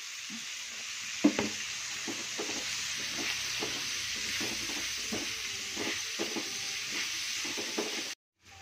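Pieces of fried tofu tumble into a hot pan and are stirred, giving a steady close sizzle with repeated scraping strokes of the spatula, ending in a sudden cut to silence.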